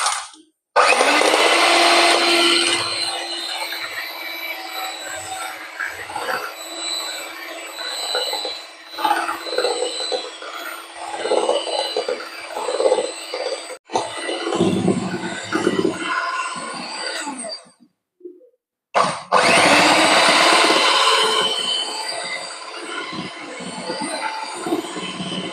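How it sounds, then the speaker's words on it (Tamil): An electric beater whips three eggs until creamy for a cake made without butter, giving a steady, loud motor whir that cuts out briefly near the end and then starts again, with a voice talking over it. "3 முட்டை எடுத்திருக்கிறேன். இதை நல்லா நாங்கள் பீட் பண்ணிக்கலாம், ஒயிட் க்ரீமாக காட்டியும்."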